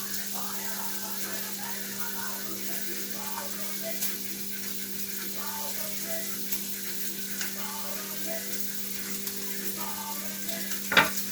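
Bacon sizzles and crackles steadily in a frying pan, a constant close hiss with small pops, a low hum underneath and one sharper clatter near the end.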